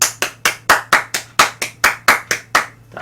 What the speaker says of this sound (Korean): 네모칸 한 칸을 박수 한 번으로 생각하시면 됩니다.